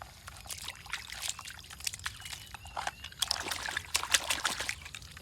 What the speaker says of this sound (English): Firstly I have to put some water.